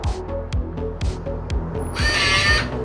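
A Kwikset AURA Reach smart deadbolt is unlocked from an app: steady rhythmic ticking clicks come first, then a short, close-up whir of the small motor driving the bolt.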